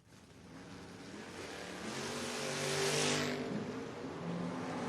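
Drag racing door cars launch down the strip, a blue car against Hunter Grote's maroon machine, their engines roaring steadily louder, peaking in a loud rising howl at the middle before easing slightly, with a broad continuous rumble throughout.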